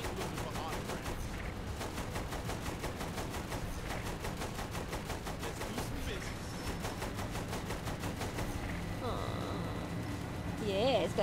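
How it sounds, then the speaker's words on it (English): Rapid, steady bursts of automatic machine-gun fire in the video game Saints Row rattle on continuously, with voices talking over the game sounds and a brief electronic whine near the end. "Use the machine gun then, not the cannon."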